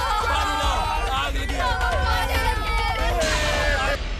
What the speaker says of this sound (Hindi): ये तो गांव वालों की आवाज है।